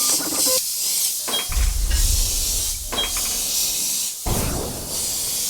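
Airbrush spraying paint for a meteor effect, short bursts of airy hissing spray, close and fairly loud, starting and stopping with brief pauses between passes.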